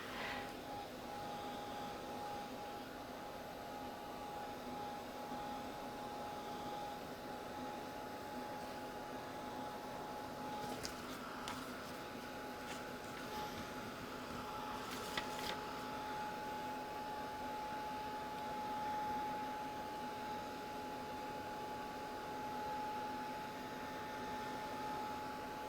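Heat tool blowing over painted Tyvek to dry it, a faint, steady whooshing hum with a constant tonal whine, running evenly throughout with a few soft ticks.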